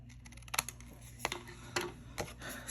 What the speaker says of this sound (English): And so I'll go ahead and cut that.